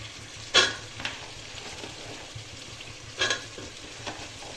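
Onion and vegetables sauté with mint and coriander in oil, giving a soft steady sizzle punctuated by two sharp, close spatula scrapes against the pan.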